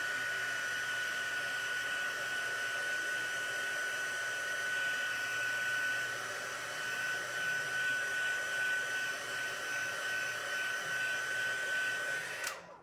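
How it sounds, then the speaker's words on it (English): A heat tool blows hot air to dry ink on a handmade craft card, a steady whirring hiss with a thin whine held evenly for about twelve seconds before cutting off, close up with no talking. "And I'm going to take my heat tool."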